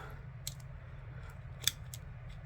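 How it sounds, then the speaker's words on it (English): Faint, quick snips from the small scissors on a Perwin multi-tool, a few crisp cuts over a steady low background hum with no speech. "So here's the scissors."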